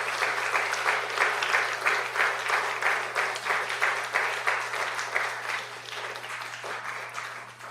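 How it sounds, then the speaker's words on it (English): An audience at a public astronomy lecture breaks into sustained applause, dense clapping from many hands that holds steady throughout and tapers slightly toward the end. "let's give another round of applause to Ryan."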